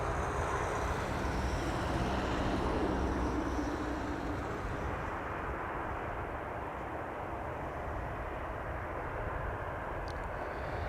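A German Airways plane flying for KLM, flight 912 from Aberdeen, arriving at Amsterdam Schiphol, a broad steady engine roar that is loudest at first and slowly fades.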